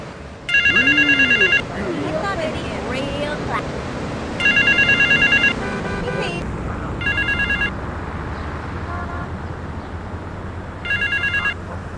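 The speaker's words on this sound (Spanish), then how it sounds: "el sonido del teléfono es un poco más corto en la consola" Telephone ring from the GTA 3 video game, compared between PC and Xbox versions: four separate bursts of rapid electronic trilling ringing, a longer pair followed by two shorter ones, over game ambience with some background noise.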